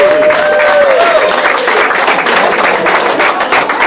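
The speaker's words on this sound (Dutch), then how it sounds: "En dan applaus voor" Audience applause at a Pearkekeatsen event in Tytsjerk, a dense, steady wash of many hands clapping at full volume throughout, with a few faint voices mixed into the crowd.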